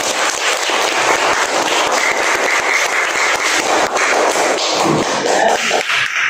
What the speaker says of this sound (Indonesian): kita kasih tepuk tangan dulu.